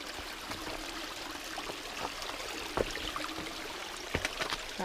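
Stream water flows steadily beside a hiking trail on the Pacific Crest Trail, a soft continuous rush and trickle with occasional small splashes, quiet and close, with no talking.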